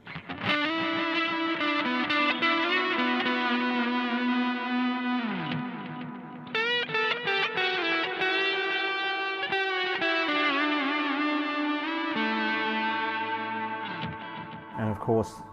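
Lead electric guitar played through a Mad Professor Dual Blue Delay pedal: sustained melodic notes and bends with distinct trailing repeats and a lush, slightly distorted wash, loud and close with no talking.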